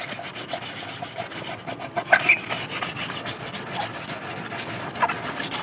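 Sandpaper rubs steadily over a Yamaha XTZ 125 body panel to remove white paint, a continuous close scratchy rasp with rhythmic back-and-forth strokes and no talking.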